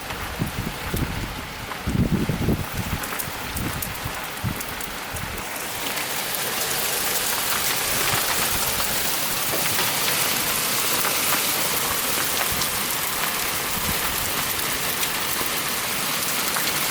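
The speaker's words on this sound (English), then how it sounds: "of course it just started raining again" Steady rain falling, at first light with a few louder thumps and handling noise, then building into a loud, even hiss that continues without talk for the rest of the stretch.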